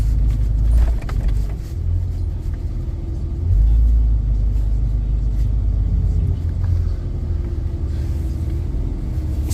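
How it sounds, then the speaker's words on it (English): Slow traffic crawling along a snowy road, heard as a steady low engine and tire rumble from nearby vehicles, with a brief swell partway through and no talking. "Friggin' traffic is just crawling"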